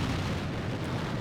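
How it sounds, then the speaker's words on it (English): A truck detonating in BeamNG.drive, a steady rumbling explosion roar that fills the whole moment without a sharp onset, dense and fairly loud throughout. "it might just detonate here as soon as I hit the button"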